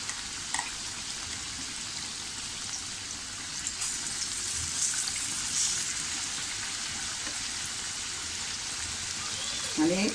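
Bread pakoda pieces frying in hot oil over a low gas flame, a steady broad sizzle and crackle running throughout at moderate, even loudness, with a brief clatter near the end.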